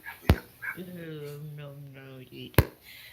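A dog barks sharply twice, near and loud, with a whining, whimper-like vocal sound stretched between the barks amid a game session.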